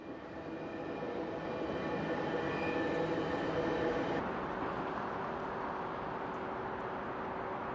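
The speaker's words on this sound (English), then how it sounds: "a rare shot of C trains and the Canadian Pacific Railway meeting" Trains of Calgary's C-Train light rail and the Canadian Pacific Railway pass in the city, giving a steady close rumble of rolling wheels and cars with a faint squealing tone partway through.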